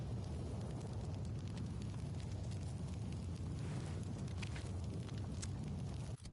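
Fire roars steadily around the player character in a dark fantasy video game, a loud, continuous crackling rush with no voices, cutting off abruptly at the end.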